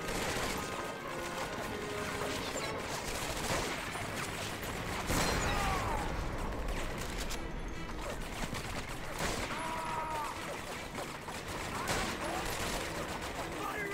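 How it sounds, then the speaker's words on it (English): Medal of Honor: Vanguard battle gunfire crackles in a constant, distant fusillade of rapid shots and bursts, with scattered louder cracks and mechanical clatter, and muffled voices mixed in. "Who's shooting me from over here?"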